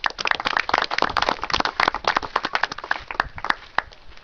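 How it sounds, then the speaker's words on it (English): An audience claps for guest storyteller Cath Little at the Rhymney Valley Arts and Literature Festival in Parc Cwm Darran, a dense run of sharp individual handclaps that holds steady for about four seconds. "Could we give a round of applause, please, for our guest storyteller, Cath Little?"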